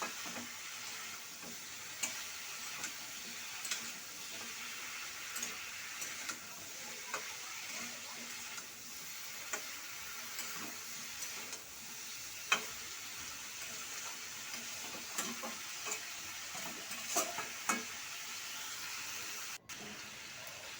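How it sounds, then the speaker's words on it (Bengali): Amaranth stems slowly stir-fried with green chillies and cumin powder for about five minutes: a faint continuous sizzle with occasional soft scraping and tapping of a spatula, quiet and close. "এইভাবেই কিন্তু আমি আস্তে আস্তে 5 মিনিট ধরে কষিয়ে নেব"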